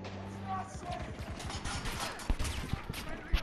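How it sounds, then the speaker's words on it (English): A gunshot in the shooter game Battlefield: a sharp transient crack stands out near the end, amid busy battle noise, rapid mechanical ticking and a short burst of talking. "Did I scare you when I shot?"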